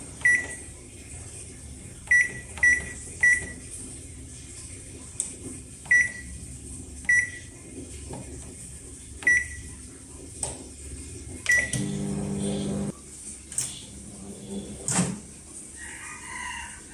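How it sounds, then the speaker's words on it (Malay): A microwave oven runs while steaming a bowl of baking soda and vinegar, giving a low steady hum. Sharp electronic beeps cut in repeatedly at intervals, and a brief rattling burst comes near the end. "Lepas tu wapkanlah dalam microwave ni."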